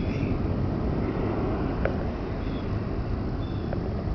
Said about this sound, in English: Beautiful takeoff. Nothing like an Embraer on a Friday 13th.